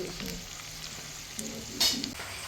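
Cashews and other food fry in a pan for a home puja offering, giving a close, continuous sizzle with scraping stirs and a brief louder crackle near the end.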